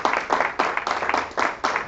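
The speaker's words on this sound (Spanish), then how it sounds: "Dale un aplauso al rey." Rhythmic group clapping from a church congregation at a Sunday service, fairly faint and evenly paced bursts repeating across the short stretch.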